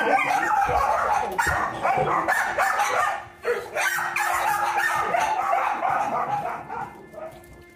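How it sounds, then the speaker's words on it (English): Puppies in their daycare pen on a farm bark, yip and whimper in a dense, continuous chorus, close and loud, with overlapping voices and no clear pauses. "Puppies in their daycare."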